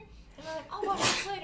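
A single sharp sneeze bursts out midway through casual conversation, loud and close, with people talking before and after it.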